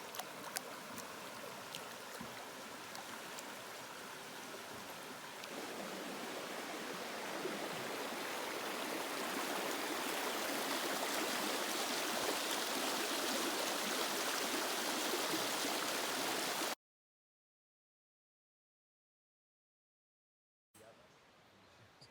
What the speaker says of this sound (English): I've just come down to this little stream to soak my feet